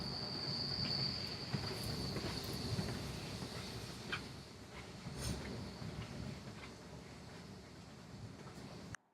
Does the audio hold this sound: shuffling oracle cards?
no